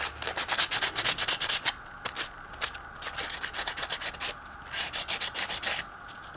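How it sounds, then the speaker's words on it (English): Sandpaper rubbed by hand on an altered playing card, quick scratchy back-and-forth strokes in bursts with short pauses, close and fairly quiet. "I'm going to take a piece of sandpaper"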